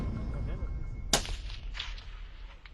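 A single sharp sniper rifle shot cracks out at a special forces training range, a sudden loud report that rings briefly over faint background talk and ambient noise.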